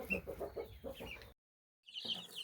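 Hens of varied ages and breeds clucking in short, repeated bursts, fairly close, broken by a brief pause before more clucking resumes.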